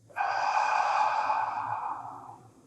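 A single slow, relaxing exhale through the mouth, breathy and close, rising quickly and then tapering off gently over about two seconds during a relaxation breathing exercise.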